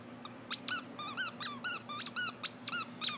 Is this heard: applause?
no